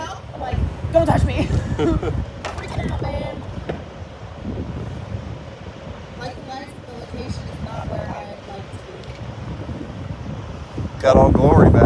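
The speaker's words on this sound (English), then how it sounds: "It is windy." Wind gusts outdoors buffet the microphone while people talk during an LED CB antenna install, a low rumbling rush under the voices that swells louder near the end.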